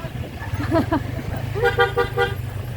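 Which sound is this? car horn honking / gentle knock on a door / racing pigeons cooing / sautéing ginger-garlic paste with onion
car horn honking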